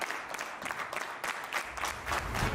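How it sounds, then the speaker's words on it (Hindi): Applause from an audience at a Hindi-language motivational or business talk, a short burst of clapping that sits in the background and swells slightly toward the end. "इनके लिए एक बार जोरदार तालियां बजा दें।"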